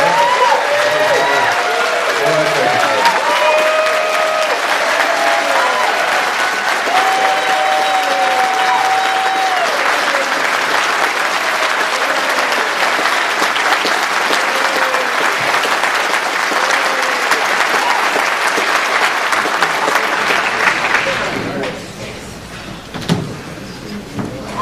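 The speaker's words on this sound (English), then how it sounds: "I would like to film on an iPhone everyone's applauding and sending a greeting to Maura" A crowd at the ACPT crossword tournament's 2016 talent show applauds steadily and loudly for about twenty seconds, with scattered voices in the mix, before the clapping thins out and stops.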